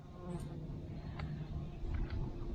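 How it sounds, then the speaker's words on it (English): A bee buzzes in a giant pumpkin competition patch, a faint, wavering hum that comes and goes close by under steady outdoor background noise. "get out of there, bee."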